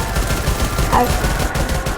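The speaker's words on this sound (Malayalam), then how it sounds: "ഇവിടെ മൊത്തം വെടിയും കുത്തും കാര്യങ്ങളൊക്കെയാണ്." Gunfire from the Free Fire MAX video game crackles in a rapid, dense burst over busy background game noise, near and fairly loud for two seconds.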